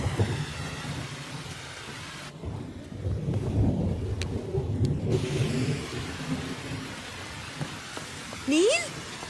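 Steady rain pours down outdoors, a dense broadband patter under a voice, with a brief rising electronic tone near the end.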